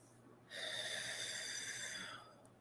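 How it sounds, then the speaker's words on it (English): One long, deep breath drawn slowly through the nose or mouth, a steady airy rush lasting about a second and a half from a near, otherwise quiet room. "you're going to do deep breathing"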